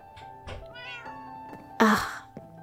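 Cartoon cats in Paperhats 3 give several meows in quick succession, ending in one loud, harsh yowl near the end, all close and clear.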